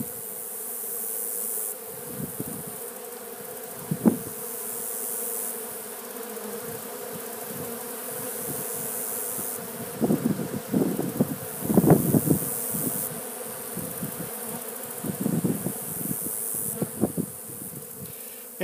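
Steady buzzing of honeybees at a hive during fall open feeding, several insects droning close by, swelling and fading as they pass near, with a soft background hum.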